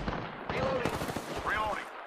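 A short, rapid run of gunfire from a video game shooter crackles through about two seconds, mixed with voice-like game audio.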